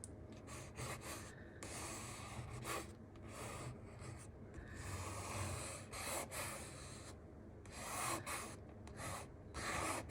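A favorite scraper tool dragged through acrylic paint during intuitive abstract painting, giving a continuous close scraping and rubbing texture with repeated strokes and brief pauses, no talking.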